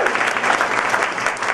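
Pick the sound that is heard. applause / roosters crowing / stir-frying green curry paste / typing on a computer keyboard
applause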